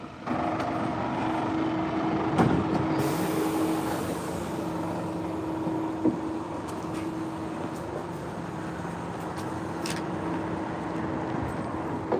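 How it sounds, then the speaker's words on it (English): A city bus on a sunny, windy street in Rovaniemi gives a steady low engine rumble as it pulls up and stops, with a brief hiss partway through and constant traffic noise around it. "Oh, the bus is coming."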